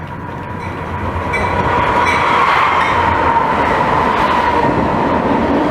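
A Norfolk Southern freight train, NS-20W, led by two GE locomotives, rumbles closer and then roars steadily past in North Jersey, the loud rolling noise holding with faint rail clatter and no voices.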